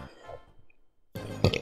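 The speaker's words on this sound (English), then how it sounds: "I haven't had a burp in this LP the last two episodes" A single short burp, close and loud, bursting out near the end after a quiet stretch, over a faint background of a Mario Party 3 game.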